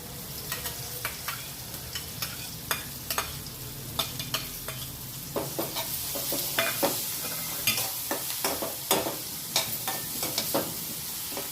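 Onions and green chilies frying in a pan, a continuous sizzle broken by frequent sharp scraping strokes of a spatula, close-up and steady throughout, with no talking.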